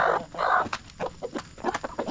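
Several Rhode Island Red hens cluck close by in quick, uneven bursts, with busy farmyard chatter overlapping throughout.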